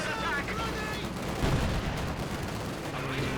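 Rattling gunfire volleys and explosive booms from Company of Heroes 2, a World War II strategy game. Bursts crackle continuously, with a heavier thump midway, while a commentator talks over the battle.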